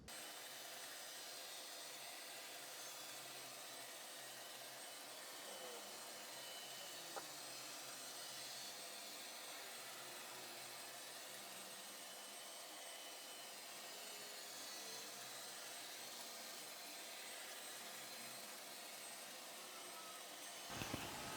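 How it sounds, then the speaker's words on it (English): A Shark PowerDetect NeverTouch robot vacuum hums and whirs steadily for a long stretch while mopping with suction on, a constant motor drone with faint scraping against the floor. "when it mops, it also does have the vacuum cleaner on"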